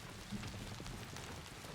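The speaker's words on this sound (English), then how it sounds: "it's the sound of the hail on the roof" Hail drumming on a roof in the hiking video game Prologue near a weather station, a steady dense patter that stays at an even level throughout.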